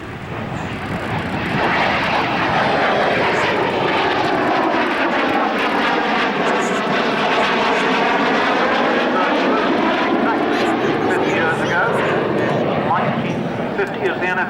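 An Armstrong Whitworth Meteor NF11 twin-seat jet night fighter passes at an airshow at Middle Wallop, a loud sustained engine roar that swells and sweeps in pitch as it flies by, with an announcer's voice over the public address.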